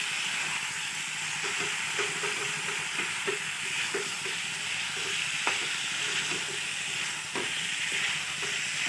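Mutton kosha stir-fried in a pan with small splashes of water, a steady close hiss and sizzle broken by soft scraping strokes of the spoon; no voices.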